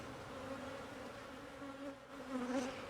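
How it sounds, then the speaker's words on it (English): Honey bees in a queen cell builder hive hum in a steady, dense buzz of many insects, close by and continuous, with no voices. "there's my cell builder here with plenty of bees in there."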